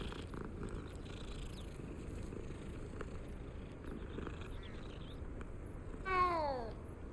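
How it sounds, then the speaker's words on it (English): A cat purring in the Hogwarts Legacy video game, a soft low purr running steadily under quiet game ambience, followed near the end by a brief rising meow. "Kitties! It's always a different kitty."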